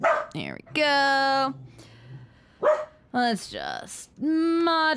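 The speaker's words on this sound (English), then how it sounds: "my dog is barking" A pet dog yips and whines in several short bursts, close and fairly loud, high-pitched and tonal, alternating with a person talking.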